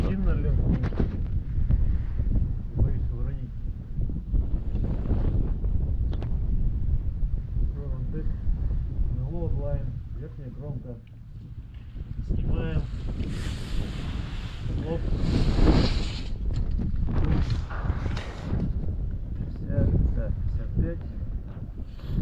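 Wind buffets the microphone on a ship's deck during dolomite loading, a steady rough rumble with gusts and scattered clatter, while someone speaks intermittently through it.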